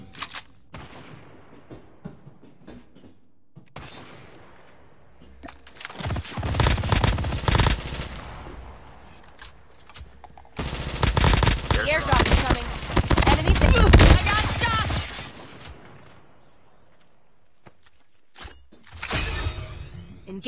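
Video game Call of Duty: Mobile gunfire: loud automatic bursts in several clusters separated by quieter gaps, with sustained rattling volleys in the middle and a final burst near the end, plus faint voice and background game sounds.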